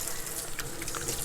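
Tap water runs steadily over hands being washed at a kitchen sink, a continuous close splashing hiss with no talk.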